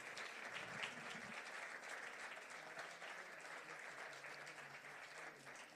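Sustained applause from a crowd closing a debate at a festival, steady and moderately distant, filling the whole stretch without pause.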